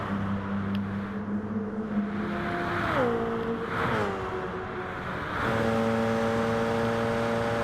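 Engines of race cars in a Monza Grand Prix racing video game drone loudly down the front straightaway, sustained whining tones dipping in pitch as gears shift, then holding steady and close.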